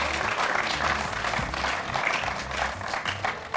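An audience at a village show in Bulandshahr, Uttar Pradesh, applauds to welcome a participant. Dense, even clapping comes from many hands at close range and holds steady throughout, with no talk over it.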